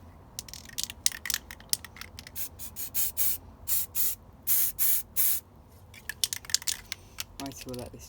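Short hissing bursts from a spray can coating an O gauge clockwork locomotive in a makeshift spray booth, about half a dozen close, even puffs amid light handling clicks and rustles.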